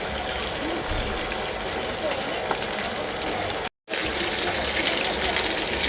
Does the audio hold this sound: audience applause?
no